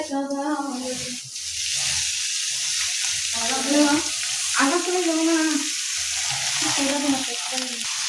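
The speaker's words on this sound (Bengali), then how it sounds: "এবার আস্তে আস্তে অল্প অল্প করে শাকগুলো দিব।" Malabar spinach greens going into a frying pan, a loud continuous sizzle with intermittent stirring and rustling strokes near the pan, with no voices.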